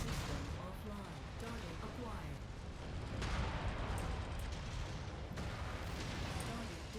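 In a MechWarrior 5 battle, dense explosions and gunfire boom continuously, with sharp blasts punching through a loud, rumbling barrage as an autocannon's ammunition detonates amid the combat.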